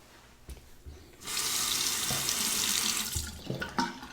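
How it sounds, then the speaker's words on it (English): A Shibumi Japanese razor with replaceable blades rinsed under a running tap: a steady, close rush of water pouring into a sink for a few seconds, starting after a brief pause with a few small clicks. "Rinse."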